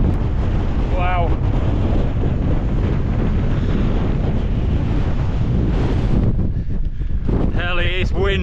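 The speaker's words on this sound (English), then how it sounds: "Hell, it is windy" Strong, steady wind roars across the microphone at Stickle Tarn in the Lake District, a continuous heavy buffeting that barely lets up, with a few brief voice-like sounds breaking through.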